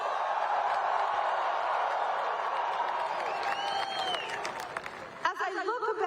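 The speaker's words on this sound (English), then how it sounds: "As I look about this incredible crowd, a huge crowd, I see people from every single background." A huge rally crowd in New York applauds and cheers, a broad wash of clapping that holds steady and then fades, with a voice starting to speak over the tail end.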